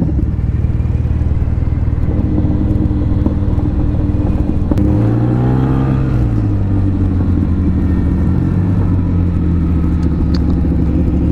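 Car engine braking while descending a slope near Fnideq and M'diq, a steady low rumble that rises in pitch midway and then settles back, loud and continuous with no talk.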